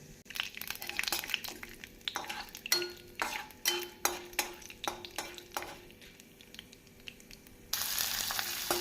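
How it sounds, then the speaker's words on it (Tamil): Chopped onions fry in oil with chana dal and urad dal in a pan for cabbage chutney, with a close sizzle broken by repeated scraping stirs of a spoon against the pan. "உளுந்து பொன்னிறம் ஆனதும் நாம் நறுக்கிய வெங்காயத்தை போட்டுவிடலாம்."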